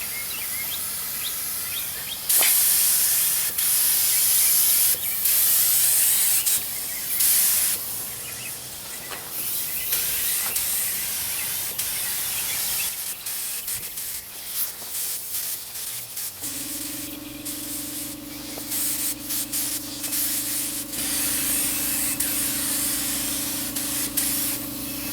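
FX3000 spray gun laying clear coat onto a Honda Accord bumper, a loud continuous hiss of spraying with short bursts and breaks as the gun is triggered, then a steady tonal hum from a compressor or fan takes over later.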